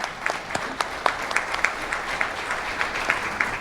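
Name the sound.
audience applause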